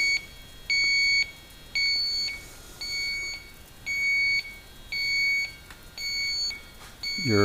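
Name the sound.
Yellow Jacket AccuProbe leak detector beeping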